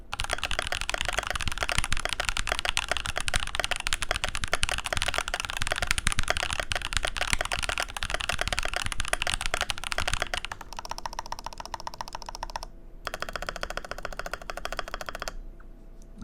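Typing on a MIKIT DK65 mechanical keyboard with TTC Holy Panda tactile switches and a steel plate: a fast, continuous stream of crisp, close keystrokes, thinning into sparser clacks and brief pauses near the end.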